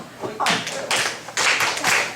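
Hand claps marking the beats of a simple classroom English chant, four sharp bright claps in a steady rhythm, close and fairly loud, with no talking over them.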